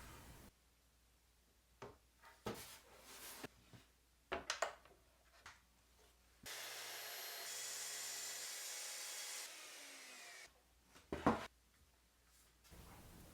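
Sanding 3/4 inch birch plywood parts: short bursts of scraping and rubbing with pauses between, then a few seconds of steady louder whirring before the short strokes return, close and fairly quiet.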